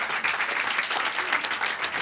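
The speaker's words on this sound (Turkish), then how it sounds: "Alkışlayalım La Yavuz'u da." Audience applause at a live quiz night, a dense, steady wash of many hands clapping together at moderate loudness for about two seconds, with no talk over it.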